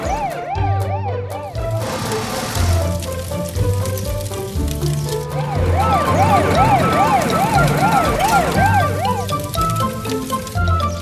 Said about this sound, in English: The fire truck's turning on its emergency lights and sirens.